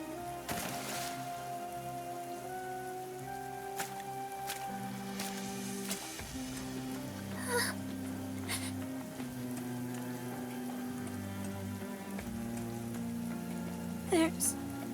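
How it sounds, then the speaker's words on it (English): Steady rain pattering on a surface in the NIKKE game, a continuous wet hiss with scattered drop sounds over a soft musical background, with no voices. "It's raining. Now I'm all wet."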